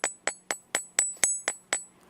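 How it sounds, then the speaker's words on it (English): Jewelry wire being forged with a hammer at the beach, eight evenly spaced sharp metallic taps with a bright ringing edge, close and clear with no talking. "I'm not just hammering flat, I'm actually hitting and pulling"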